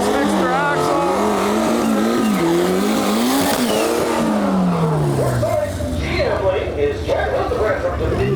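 Junkyard Integra drag race car with a repaired axle and clutch trouble making a pass at Interlake Dragway, engine climbing through gears with tire squeal, loud and near, under an announcer's commentary.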